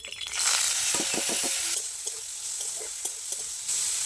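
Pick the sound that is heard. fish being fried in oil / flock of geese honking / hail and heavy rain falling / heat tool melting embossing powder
fish being fried in oil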